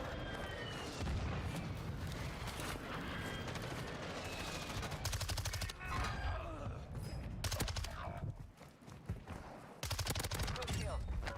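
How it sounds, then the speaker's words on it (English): Rapid bursts of automatic gunfire and booming shots from the Call of Duty Warzone 2 video game hammer away at close range on the Vondel Resurgence map, with brief lulls, and players talk over the shooting. "Taking effective fire."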